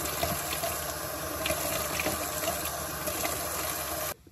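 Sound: water while washing face

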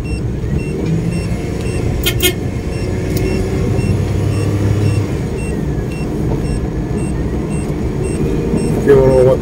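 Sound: voltmeter low-voltage warning beeping

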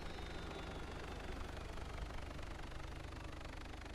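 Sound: vehicle engine running in the video game DayZ

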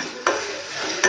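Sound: onion and tomato sautéing in pan with salt

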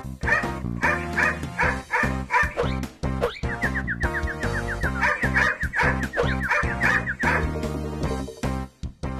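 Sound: person imitating a dog barking

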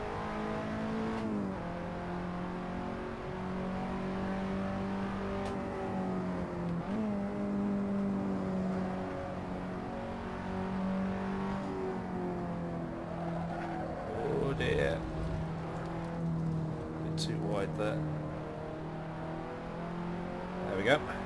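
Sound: race car engine accelerating in Assetto Corsa video game

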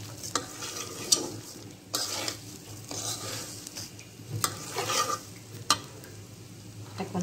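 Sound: rice being fried in a pan for beef tehari

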